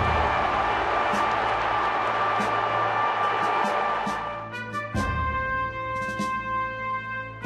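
Massive stadium crowd roaring at an Australian football match after a goal, a dense sustained wall of cheering with tonal horn-like bands and brief surges, loud throughout.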